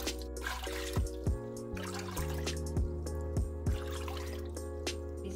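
About eight cups of water pour and trickle into a pot for boiling spaghetti, with splashy drips and gurgles of rising pitch, fairly faint and close, no voices.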